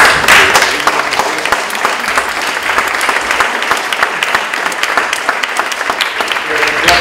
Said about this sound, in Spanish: pues le damos otro aplauso para Álvaro